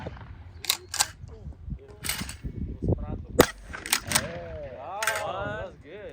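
A single sharp shotgun report fired at a clay target outdoors on a windy day, one loud crack in the middle, with people talking before and after.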